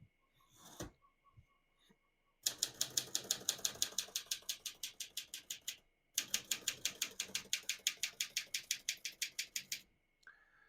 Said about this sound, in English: I'm going to flip the paper release forward, and I'm going to straighten that out like this, flip it back